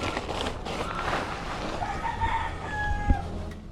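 A rooster crows at a middle distance over steady wind and rain-like background noise, the call rising and stretching out near the end amid a sharp knock.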